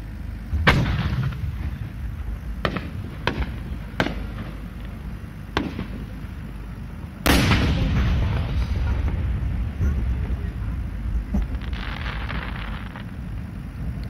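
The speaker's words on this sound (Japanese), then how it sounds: "上り小花八重新錦カムロ菊点滅群生" Chrysanthemum-type firework shells burst at the Omagari spring fireworks show in Japan. A series of sharp, echoing booms comes at irregular intervals, then a larger burst trails off into a long crackling rumble.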